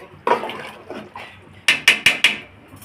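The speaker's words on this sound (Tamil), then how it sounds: "தண்ணி ஊற்றிடுவோம்" Water is poured into a cooking pot of stirred onions on a home stove, making a brief soft splash followed by a quick run of four sharp clinks.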